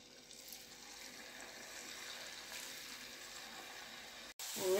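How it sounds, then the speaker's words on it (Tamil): Pieces of masala snack dough frying in hot oil in a pan, a steady close hiss and crackle that holds throughout, ending in a sudden louder burst. "இப்போ வானலில் எண்ணெய் காயுது, இதில் போட்டு நம்ம வேக வச்சு பொறிச்சு எடுத்துடலாம்."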